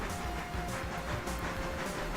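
Steady rumbling and hissing from a train braking in the Railroader video game. The noise is continuous and moderately loud throughout, with no talking over it.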